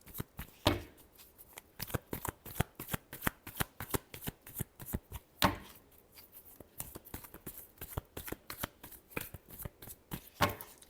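Tarot cards are shuffled by hand in rapid, crisp riffling bursts that repeat steadily for several seconds, close and fairly quiet, with no talking.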